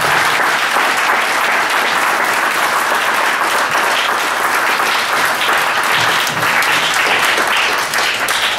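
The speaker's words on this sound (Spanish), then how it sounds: "Les voy a pedir, hermanos, que le den un fuerte aplauso a los novios" Strong, sustained applause fills the room for the bride and groom at a church wedding in Coatecas Altas, steady and dense throughout with no pauses.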